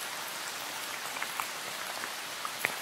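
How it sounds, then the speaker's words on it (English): Steady rain falls in a forest, a continuous soft hiss of drops with occasional louder individual drips landing nearby, moderately faint and alone. "this rain is incessant."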